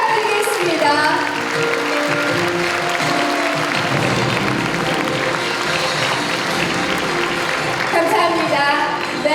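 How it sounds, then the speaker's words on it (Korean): A ceremony audience at the Gyeongbuk Education 2030 vision proclamation breaks into loud, sustained applause, a dense wall of clapping that holds steady for several seconds with music playing underneath. "다시 한번 뜨거운 박수를"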